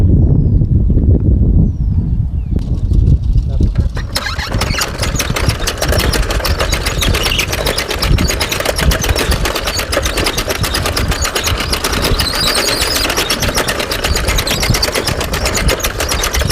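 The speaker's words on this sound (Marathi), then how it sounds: "आता टोकन यंत्राद्वारे पेरणी चालू आहे," A token seed-drill machine sowing chickpea seed in a field runs with a steady, rapid mechanical clatter and engine drone. It starts as a low rumble, then a dense rhythmic ticking sets in after a few seconds and runs on, loud and close.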